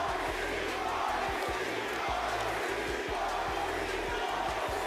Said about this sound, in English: Hey, listen to the crowd!